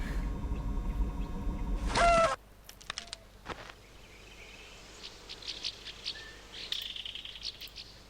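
Bird calls from the video game A Final Unity: a burst of bright chirps and whistles, then scattered short tweets and trills over a quiet ambient bed, fairly faint and without talk.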